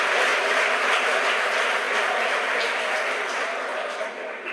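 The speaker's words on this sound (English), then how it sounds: "The crowd here at headquarters cheering." A crowd cheers and applauds at SpaceX headquarters during a Falcon 9 launch carrying 60 Starlink satellites, a loud, steady roar of clapping and shouting that holds throughout and eases slightly at the end.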